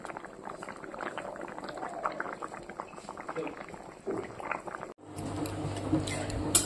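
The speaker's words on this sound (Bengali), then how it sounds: "টকবক টকবক করে ফুটছে" Soybean curry with potato and squash bubbles steadily as it boils in a pot, a soft continuous gurgle with a faint voice over it before a brief cut.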